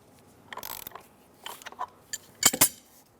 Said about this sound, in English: I'm going to hold this and tighten that threaded rod so I can pull it away just a little.